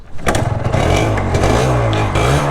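An imported Yamaha RXZ two-stroke, six-speed motorcycle revs close and loud, its buzzing engine note climbing and holding for a couple of seconds.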